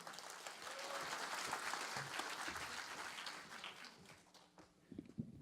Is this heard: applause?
yes